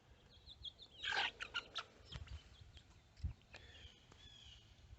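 Chickens cluck and squawk in short, uneven bursts at moderate distance, with a few soft thumps and rustles between calls.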